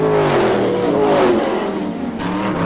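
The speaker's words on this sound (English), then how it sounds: "Now there's a new car on the starting line." A drag race car revs on the starting line at a 1950s-themed nostalgia drag night, a loud, continuous engine roar with wavering pitch that holds steady throughout, no talking.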